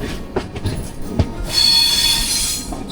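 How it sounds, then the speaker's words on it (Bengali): A Vistadome coach train between Araku and Jagdalpur switches tracks beside hills, its wheels letting out a sustained high metallic squeal over rumbling rail noise, with scattered knocks and clacks before the squeal sets in. "লাইন চেঞ্জ হচ্ছে"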